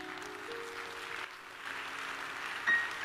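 A church congregation claps during a sermon, a soft, fairly steady patter of many hands heard at moderate distance, with a brief louder bump near the end.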